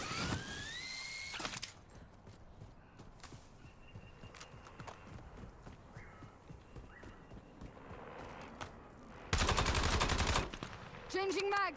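Sparse distant gunshots crack through a quiet Black Ops Royale battle royale match, then a loud, sustained automatic burst rips out near the end, followed by a short trailing volley.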